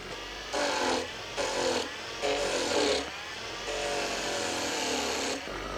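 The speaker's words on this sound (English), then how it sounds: "we can fit it on the lathe. We turn it on there." A lathe turns a piece of work round, its motor humming steadily with rhythmic rising and falling surges, close and fairly loud, and no talk over it.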